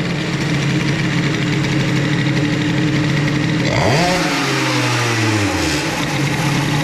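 Moped fitted with an Airsal XT 77 kit and Carters boost pipe idles steadily up close, then a sharp blip of throttle sends the engine revving up and back down within a couple of seconds before it settles to idle again.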